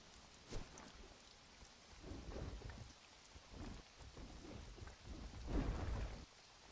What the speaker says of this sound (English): Is the freaking rain burning me?